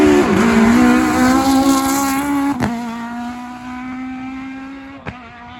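A Ford Fiesta R5 rally car runs flat out along a Yorkshire rally stage, its loud, strained engine note falling in pitch as it passes close, with two sharp pops or gear-change cracks along the way.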